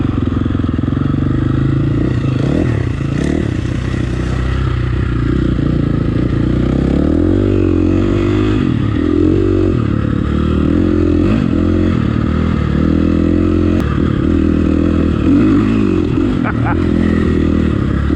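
A KTM 350 SFX motorcycle with a woods conversion and remapped ECU is ridden through forest trails, its engine loud and close with shifting revs and throttle blips, while a rider talks over it.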